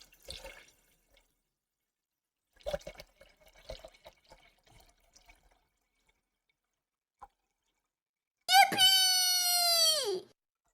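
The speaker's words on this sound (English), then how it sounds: "But you can enjoy water pouring sounds, see?" Water pours in Minecraft (GTNH modpack), a bright, steady rushing gush lasting about two seconds near the end, loud and close, after a stretch of faint scattered game sounds.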